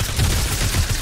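Rapid bursts of gunfire from the video game Fortnite, dense and continuous through the moment with a rumbling low body, loud and close with no talk over it.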